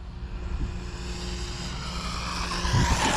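A small Arrma Typhon Grom BLX RC car runs at full throttle, its electric motor giving a steady high whine that rises in pitch near the end, with a constant rush of noise underneath.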